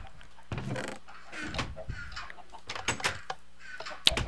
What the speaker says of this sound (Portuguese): Aqui eu tenho uma criação de galinha pra pegar ovo.